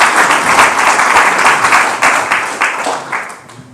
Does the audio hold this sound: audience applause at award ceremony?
yes